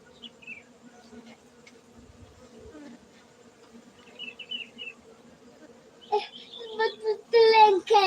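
Honey bees drone at a Gayo bee farm in Bener Meriah, Aceh, a soft steady hum close by that continues under voices talking over the last couple of seconds.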